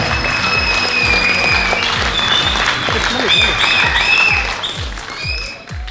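A hall crowd at the All India Mogaveera Association's global logo release ceremony claps steadily in sustained applause that fades toward the end, with voices and a whistle-like tone over it.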